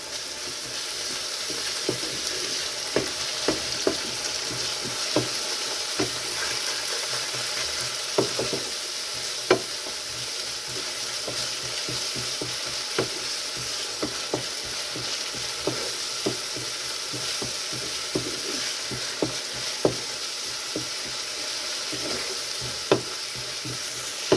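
Kadhai chicken ingredients with tomato puree are stirred and mixed in a sizzling pan, a steady frying hiss broken by frequent sharp scrapes and knocks of the spoon, close and fairly loud.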